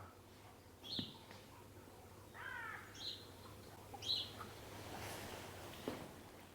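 A few scattered bird chirps and short calls from a distance, spaced out over a quiet outdoor background with a low steady hum.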